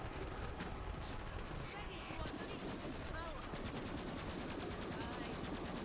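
Rapid gunfire in Borderlands 3, a continuous rattling stream of shots with game effects beneath, fairly faint and mixed with a voice talking.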